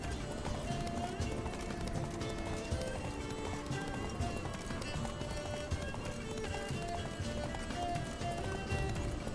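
Steady hoofbeats of a horse galloping in The Witcher 3 video game, a fast continuous clip-clop rhythm over game ambience and music, close and constant throughout.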